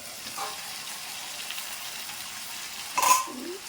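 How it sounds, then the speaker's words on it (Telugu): Chicken frying in oil with masala gives a soft, steady sizzle while being stirred, with a brief scrape early on and a louder clattering stir of the pan near the end. "ఆయిల్ అంతా పైకి లాగా తేలిపోతుంది కదా, అప్పుడు మనకి ఫ్రై అవుతున్నట్టు"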